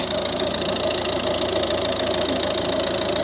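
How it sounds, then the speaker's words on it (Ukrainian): A 2011 Volvo V50 1.6 diesel engine idles steadily and close by, with a constant low rumble and a faint knocking rattle. No voices are heard. "Робота двигуна."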